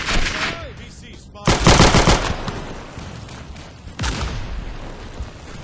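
Machine gun fire in a Roblox shooter game: loud rapid automatic bursts, with the heaviest volley in the middle and another burst near the end, over a busy battle background.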